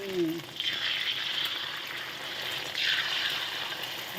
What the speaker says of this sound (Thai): ทอดแล้วนะคะ ทอดแล้ว ทำไข่ทอดไข่เจียว